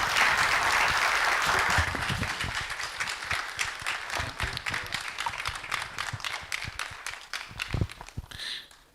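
An audience claps after a speech by Dr. KY Amoako at a media launch event, dense applause loud at first then thinning into scattered individual claps that fade out.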